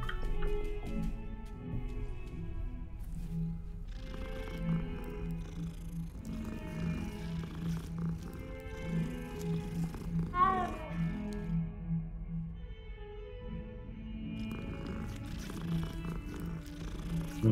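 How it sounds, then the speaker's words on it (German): A cat purring in the Hogwarts Legacy video game, a steady low rumbling purr that carries on throughout under a soft game music bed, moderately quiet and close. "Die andere Katze."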